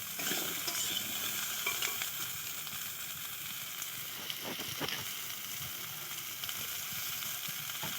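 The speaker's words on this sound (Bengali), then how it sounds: "সেই কেটে রাখা সবজিটা দিয়ে দিলাম ওলকপি আর সিম দিয়ে এটাকে এর সঙ্গে ভাজবো" Kohlrabi and flat beans frying in oil, a continuous soft sizzle with scattered crackles and stirring scrapes, fairly quiet and close, no talking.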